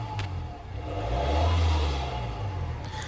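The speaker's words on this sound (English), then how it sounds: "And now we do a sound test for the exhaust." A Jaguar F-Pace V6 diesel exhaust revs in a low, steady rumble that swells and eases over a few seconds, heard up close with no voices.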